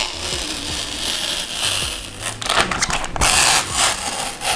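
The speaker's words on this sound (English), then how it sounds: "Now squeegee all the rapid tag out." A squeegee pushes application fluid out from under vinyl on a removable magnetic sign, producing close, rough scraping and rubbing strokes with crackly bursts in an irregular rhythm, no voices.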